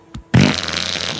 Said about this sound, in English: I'm about to fart right now.